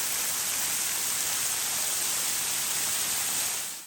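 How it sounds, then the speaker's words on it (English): A modest waterfall pouring down a rock face along a backcountry creek trail, a steady broadband rush of falling water that holds at an even level throughout with no voices. "it is just a very beautiful waterfall"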